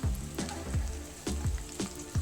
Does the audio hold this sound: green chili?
yes